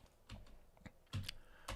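A computer keyboard clacks out a few quick bursts of keystrokes, sharp close taps with short gaps between them, recorded quietly.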